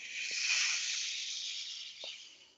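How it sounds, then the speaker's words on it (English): A bottle of Coke being opened, releasing a sustained fizzy hiss that rises quickly and slowly fades over about two seconds, with a couple of faint soft clicks in the background. "That was me opening a bottle of Coke and trying to do it quietly."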